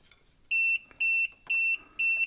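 A loud electronic alarm beeps four times in a steady rhythm, each high, piercing tone lasting about a quarter second, sounding near a Frankford Arsenal X-10 reloading press being set up, with faint clicks in between.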